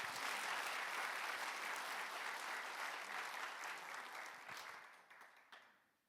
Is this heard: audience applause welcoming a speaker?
yes